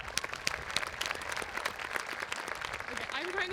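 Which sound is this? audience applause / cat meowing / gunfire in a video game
audience applause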